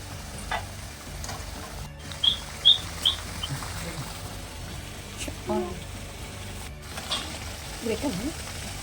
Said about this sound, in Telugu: ఆల్మోస్ట్ ఫ్రై అయిపోయినాయి మంచిగా